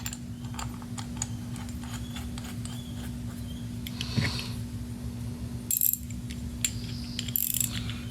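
Ratchet tightening on an aftermarket carburetor for a Honda engine: faint mechanical clicks and light metallic ticks over a steady low hum, with a brief sharper burst of clatter near the end.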